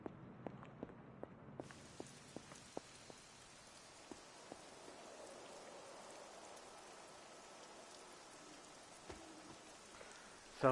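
Steady rain falls in the Marvel's Midnight Suns video game, a soft continuous hiss with a few sharp clicks early on, fairly faint throughout.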